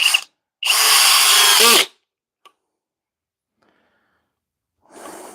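A Flex compact cordless drill driving a 3.5 inch wood screw into wood with the clutch engaged: a brief burst, then a loud sustained whine that bogs down at the end, followed by a clicking ratchet and a short final pulse.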